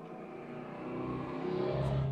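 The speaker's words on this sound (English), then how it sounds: "some dodgy car that's just buzzing up the road" A car engine revving and whirring as it drives up a road in Wales at night, growing louder and rising in pitch over a couple of seconds.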